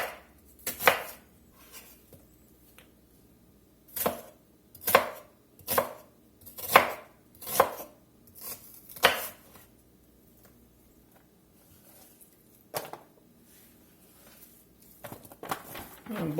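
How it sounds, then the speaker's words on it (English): A knife slices a small red onion into moons on a cutting board, giving a series of crisp, close chopping thuds in a loose rhythm, some clustered, with quiet pauses and soft handling noises between strokes. "Now this little red onion, we're just going to go in here and kind of slice this up into some moons here."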